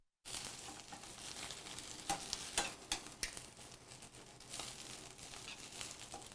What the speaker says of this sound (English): We're just going to take it here with our tongs. Just move it around a little bit.